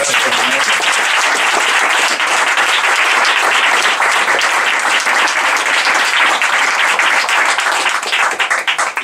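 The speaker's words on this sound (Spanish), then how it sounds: "aplaudamos a este señor" Sustained audience applause fills a book presentation hall, dense and steady clapping from a sizable crowd throughout, loud and close, thinning slightly at the very end.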